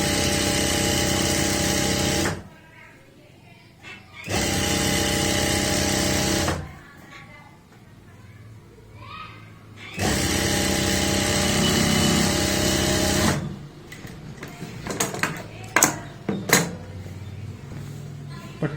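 A domestic sewing machine stitches a neck strip onto a boat-neck kurti, running in three loud sustained bursts with quiet gaps between them, followed by softer handling noises.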